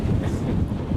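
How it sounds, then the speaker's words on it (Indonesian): A strong wind buffets the microphone outdoors in snowy weather near the sea, a loud, continuous rumbling roar, alone. "Angin kencang."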